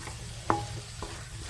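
Halwa sabzi being stirred and fried in a pan, with a single sharp scrape of the spoon against the pan over a steady low sizzle, close by and with no talking.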